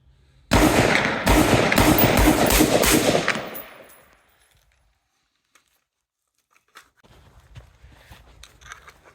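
A rapid string of rifle shots from a 16-inch PSA upper fired in a bill drill, about six sharp reports in quick succession, loud and close, followed by fading echo, silence, then faint rustling.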